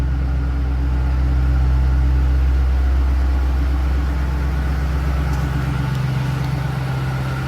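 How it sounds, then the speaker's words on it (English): A supercharged 2006 Ford Mustang Saleen S281 idles with a loud, steady, low rumble that holds constant throughout, close by and without any voices. "Very nice sounding car."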